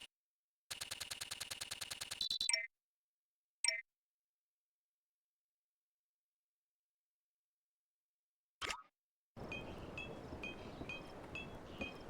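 Collectibles clink in the Sly Cooper: Thieves in Time video game as a quick run of bright clicks and chimes, then isolated pings amid silence, followed by a soft repeating chime over faint background noise.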